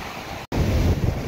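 Steady roar of storm surf from a typhoon-stirred sea with rushing water, blended with heavy wind buffeting the microphone; a brief dropout interrupts it midway.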